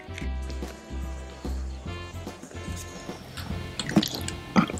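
Water poured from small cups into a clear-glue slime mixture, splashing and dripping in short bursts over a low steady hum, louder splashes toward the end.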